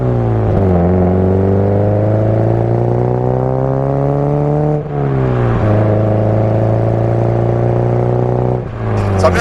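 A Subaru WRX S204, a limited edition, runs steadily while warming up, its engine a loud, close, smooth drone with a few brief blips of revs rising and settling.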